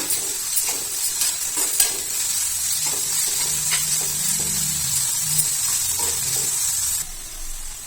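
Green chillies and curry leaves sauté in hot oil, making a steady close sizzle with occasional stirring scrapes against the pan before the hiss drops off near the end.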